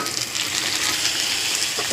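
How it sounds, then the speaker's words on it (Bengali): Chopped onions frying in oil in a pan, a steady, close, dense sizzle running unbroken with no talk. "কেটে রাখা পেঁয়াজগুলো দিয়ে দিলাম, একটু ভালো করে ভেজে নিই"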